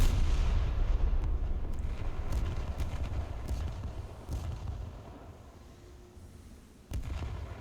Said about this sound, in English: full broadside coming up